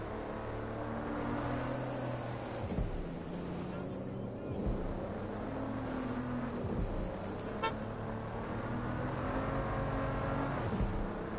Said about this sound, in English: Nice engine noise on it.